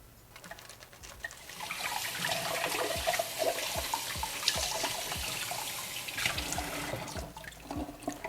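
Running tap water splashes steadily while fish is scrubbed with lime in a sink, with short knocks and rubbing scattered through the flow; the pour swells early and stays moderately close throughout, and no one speaks.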